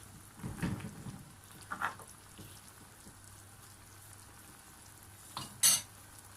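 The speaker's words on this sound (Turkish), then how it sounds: "Fazla karıştırmadan bu şekilde pişirmeye bırakacağım." Olive-oil okra stew simmers untouched in a pot, giving a soft, steady low bubbling and faint crackle, with a couple of brief clinks and one sharper tap near the end.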